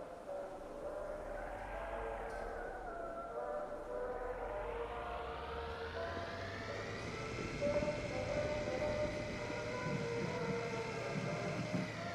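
A tram ride in the Kentucky Route Zero game, a steady mechanical drone whose motor whine rises and falls in pitch, continuous and moderately loud with a low rumble throughout.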